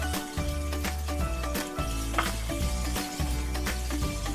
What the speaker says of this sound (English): Listen to that bacon just kind of sizzle.